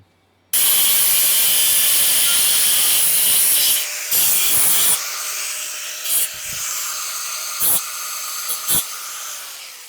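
An overly long drill bit is cut off with a harsh, loud, continuous grinding hiss that starts abruptly, with a few brief dips and bursts as the cut proceeds.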